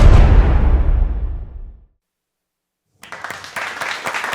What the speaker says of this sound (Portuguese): Mais aplausos.